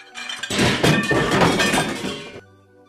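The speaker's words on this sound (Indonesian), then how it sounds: "Piring-piring mulai jatuh dari rak satu persatu." Plates crash and shatter as they fall from a shelf in a sustained burst of breaking pieces, loud and close, then stop abruptly.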